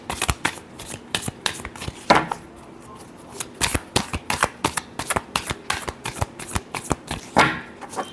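Tarot cards are shuffled by hand in a series of close, crisp riffling and slapping bursts with brief pauses between them, standing alone without speech.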